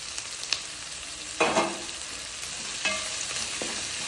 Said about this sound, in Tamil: இதில் வந்து இப்போ நம்ம கருவேப்பிலை, வரமிளகா, கொத்தமல்லி தழை போட்டு ஒரு வதக்கு வதக்கிட்டு இதே தேங்காயும் போட்டு ஒரு வதக்கு வதக்கிடணும்